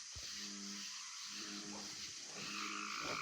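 A large frog calls from a pond at night, giving repeated low, buzzy croaks in short pulses over faint background noise.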